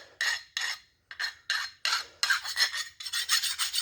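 A hand file rasps across the edges of a connecting rod from a 350 Chevy engine rebuild in short repeated strokes, about ten close, scratchy passes, the final ones quicker and running together.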